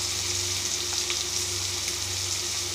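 Chana dal fries with spices in a pan, giving a steady, even sizzle with a low hum underneath and a few soft stirring clicks, close and alone.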